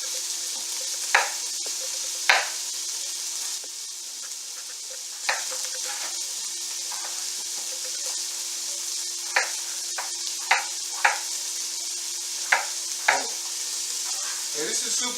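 Potatoes fry in a pan with lamb shanks, a steady close sizzle with a faint hum beneath, broken by occasional sharp clinks and scrapes of stirring.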